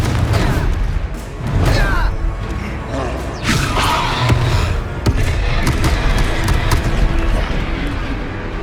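Confringo fire-spell explosions from Hogwarts Legacy play among loud, continuous combat noise: several booming blasts and thuds at irregular intervals over a dense rumble. A voice calls out spell names.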